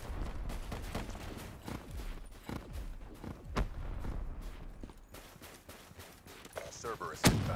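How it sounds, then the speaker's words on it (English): Grenade blasts and gunfire in the shooter game Vesper, a string of thudding explosions and sharp shots at uneven intervals, fairly faint and mixed with a voice talking. "they're shooting grenades at me"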